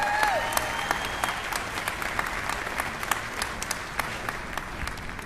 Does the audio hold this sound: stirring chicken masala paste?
no